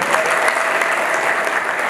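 An audience at a religious teaching on marriage applauds in a dense, steady burst of clapping that fills the space from start to finish with no voices standing out.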